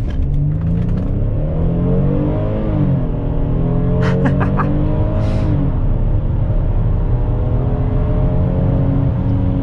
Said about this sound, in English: So here's another quick 0 to 60 test